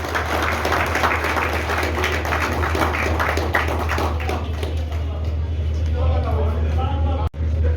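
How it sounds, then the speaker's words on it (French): Audience at an installation ceremony for a new regional director applauds warmly, a dense, steady wash of clapping from a crowd under a persistent low hum, fairly loud throughout. "je vous demande d'applaudir chaudement"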